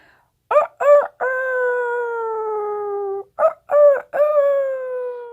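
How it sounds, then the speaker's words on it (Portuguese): A neighbourhood rooster crows before dawn: short clipped notes lead into a long drawn-out call, then a second crow follows. Both are loud, clear and close, with no other sound around them. "o galo da vizinhança começou a cantar, anunciando a madrugada"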